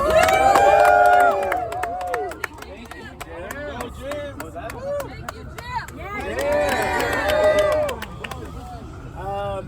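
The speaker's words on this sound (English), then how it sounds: "everybody behind me deserves a big round of applause" A crowd at an outdoor rally in a city hall park claps and cheers loudly for several seconds, with a dense patter of hand claps and whoops that dip slightly and then swell again.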